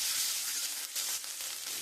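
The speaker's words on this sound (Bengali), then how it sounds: "আমি ওই মাছ ভাজার তেলের মধ্যে আমি একটু আদা ফোড়ন দিয়ে দেবো।" Ginger sizzles loudly in hot oil left over from frying fish, a continuous close hiss and crackle with no voices.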